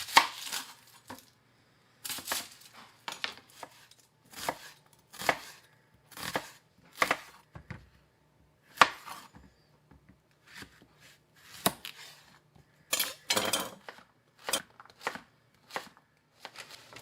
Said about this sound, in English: So we're going to go ahead and get these all chopped and set up on the sheet pan.